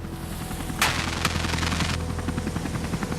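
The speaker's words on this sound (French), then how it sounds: "Un fusil est utilisé pour l'achever." A sharp rifle gunshot rings out at sea as whalers finish off a harpooned whale, one loud crack followed by a short burst of further reports over the steady drone of a filming helicopter.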